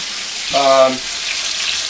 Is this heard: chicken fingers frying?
yes